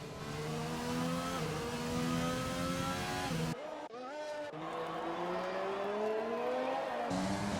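A Honda race car engine in a racing video game howls steadily at high revs, rising through gear changes with brief lifts and a tire squeal, close and continuous.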